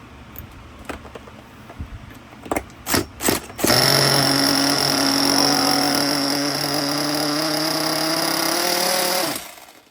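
A used Duratrax Raze nitro RC car engine is pulled over a few times with sputtering bursts, then catches and runs loudly at a steady high-pitched buzz for several seconds before cutting off. It is close and no one talks.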